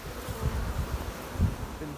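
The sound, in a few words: honeybees buzzing on a hive comb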